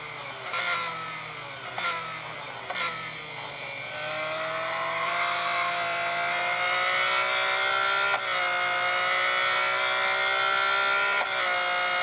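A classic Ferrari race car engine from a racing video game revs and drones with rising and falling pitch. Gear changes break the tone every few seconds, and the engine then holds a steady, fairly loud whine.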